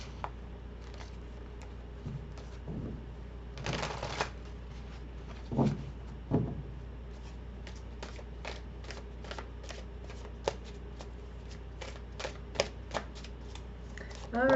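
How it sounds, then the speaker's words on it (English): Tarot cards are shuffled and pulled, with a dense riffling burst near the start and then a string of light, crisp snaps and taps as single cards are drawn, all fairly quiet with a low voice murmuring briefly. "So let's pull some more cards here."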